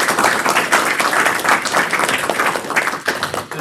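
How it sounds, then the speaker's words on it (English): Audience at a keynote panel giving a quick round of applause, lively, close clapping from a room of people that starts at once and begins to thin near the end. "can we get just a quick round of applause for"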